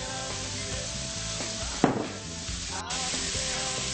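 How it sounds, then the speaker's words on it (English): Carrots, onions, celery and potatoes cut into one-inch pieces sizzle in a stew pot while being stirred. A soft, even crackle carries a brief scraping stir partway through, with faint background tones underneath. "I'm gonna start out cooking my vegetables"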